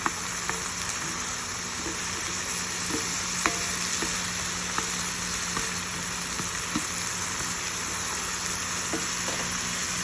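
Spinach sizzles and wilts in a pan over medium heat for a seafood artichoke spinach dip: a soft, steady frying hiss carries on throughout, with a few faint clicks from stirring.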